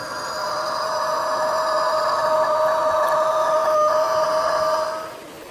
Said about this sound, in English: rooster, rooster means murga